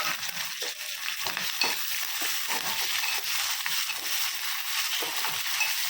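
Onions, green chilies and curry leaves frying in a pan for an amaranth-tomato curry: a steady, close sizzle broken by repeated scraping stir strokes.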